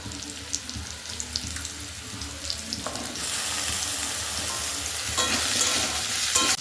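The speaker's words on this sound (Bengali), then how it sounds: "আলুর গা একটু ভাজা ভাজা মতো হয়েছে, এরপর আমি দিয়ে দিচ্ছি কচু।" Potatoes and taro fry in a pan with a faint sizzle and light stirring clinks, the frying hiss growing louder midway as more pieces go in, with no speech.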